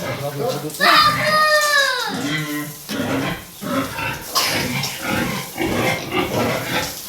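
Pigs on a backyard farm grunt and squeal in short bursts near the listener while children shout and talk over them throughout.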